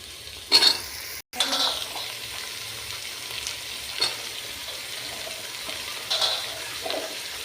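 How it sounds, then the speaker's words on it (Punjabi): Masala fries in a pan for a pumpkin sabzi, a soft low sizzle with a few clinks and scrapes of a spoon against the pan, fairly quiet and close. "ਮਸਾਲੇ ਨੂੰ ਜੇ ਆਪਾਂ ਚੰਗੀ ਤਰ੍ਹਾਂ ਪਕਾ ਲਾਂਗੇ ਆਪਾਂ ਜੀ ਮਸਾਲਾ ਪਾ ਰਹੇ ਹਾਂ"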